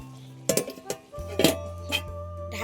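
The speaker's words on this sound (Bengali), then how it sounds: "ওটা দিয়ে ভালো করে নেড়ে চেড়ে দিয়ে আবার ঢেকে দেবো।" A metal spoon scrapes and clinks against a pan while stirring bottle gourd and prawn curry, a few sharp clatters spaced apart, then a lid set down with a clank; close and fairly quiet.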